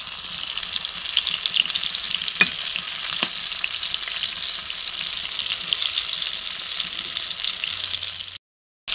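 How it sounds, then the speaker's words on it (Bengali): Pointed gourd (potol) pieces fry in a pan with a steady, close sizzle and two brief sharp utensil clicks early on. The frying stops abruptly into silence near the end, and there are no voices. "পটলগুলো একটু ভালো করে ভেজে নেব, আর একটু ভাজবো।"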